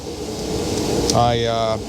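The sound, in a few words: heater running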